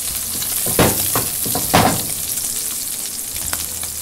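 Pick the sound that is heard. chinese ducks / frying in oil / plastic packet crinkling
frying in oil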